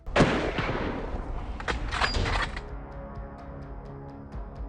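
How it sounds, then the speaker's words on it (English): A rifle shot fired during an alligator hunt in a swamp: a sharp close blast followed by a second crack, then a long fading rumble with scattered faint clicks trailing off. "The hunter pulled the trigger."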